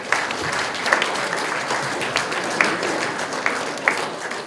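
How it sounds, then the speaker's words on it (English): A room of men at a Men Make a Difference event applauding themselves, with dense sustained clapping, a few sharp louder claps standing out, and no talking. "Give yourselves a round of applause."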